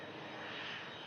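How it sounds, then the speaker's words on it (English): An EasyJet airliner sitting on the taxiway gives off a steady, distant engine roar that stays even throughout, with no talk. "I feel like I keep hearing the engines like spooling up a little."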